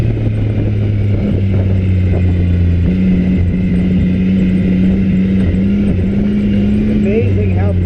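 A turbocharged UTV engine runs steadily and close by, its drone shifting pitch slightly as the throttle changes, while voices talk over it throughout.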